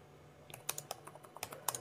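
Fast thumb typing produces a quick, irregular run of soft, close clicks and taps, faint and without speech.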